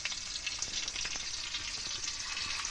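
Steady, crackling sizzle of fish pieces frying in hot oil, close and continuous with small pops throughout.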